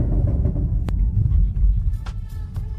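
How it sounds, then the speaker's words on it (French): A Chevrolet Camaro ZL1 Collector with a dual-clutch gearbox rumbles heavily up close, its engine note throbbing and briefly dipping as a gear change comes through. "Je crois que c'est une boîte à double embrayage, car ça change ainsi."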